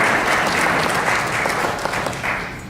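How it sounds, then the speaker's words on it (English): Audience applause at a community meeting for residents who serve on board committees: dense, steady clapping from a crowd that holds evenly, then begins to thin slightly toward the end. "Please give them an applause."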